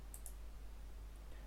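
A computer mouse clicks twice in quick succession near the start, then once more faintly, each a sharp tiny tick over a quiet steady hum.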